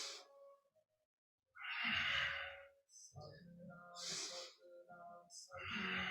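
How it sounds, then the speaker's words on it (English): During Kundalini yoga spinal flexing, forceful breaths come in and out in a slow repeating rhythm, close and fairly loud with short pauses between them. "Again, we're breathing in coordination with the movement."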